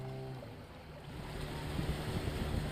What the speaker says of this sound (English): As the river opened up, a driver and his outboard canoe appeared.